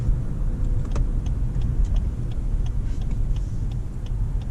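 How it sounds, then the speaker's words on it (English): A Lexus LS500 is driven at a steady pace, a smooth low engine hum and tire rumble heard from inside the cabin, with faint ticks and no one speaking. "this car is absolutely fantastic to drive, and it's so smooth in the gear shift"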